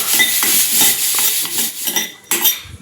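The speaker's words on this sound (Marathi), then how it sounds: "आता आपण मसाला भाजून घ्यायचे" Whole spices such as cinnamon, cardamom, cloves, peppercorns and star anise dry-roasting in a pan, stirred with a utensil that scrapes and clinks in a close, repeated rhythm over a faint sizzle, with no talking.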